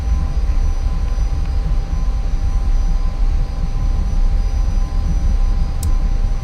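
An F-86F Sabre jet sits before takeoff with a loud, steady engine roar and rumble close up from the cockpit, with no talk.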